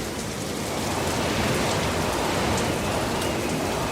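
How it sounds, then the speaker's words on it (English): Heavy rain pouring steadily in a storm, a dense continuous hiss of drops hitting surfaces with a faint low rumble beneath, loud and unbroken throughout. "the wind got stronger and stronger, and the rain got heavier and heavier"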